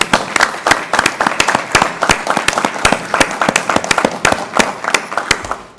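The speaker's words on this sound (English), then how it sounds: "Again, a huge round of applause." Loud, dense applause from an audience at a school board of education meeting, with many sharp overlapping claps continuing throughout without pause.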